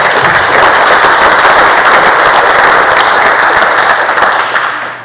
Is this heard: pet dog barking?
no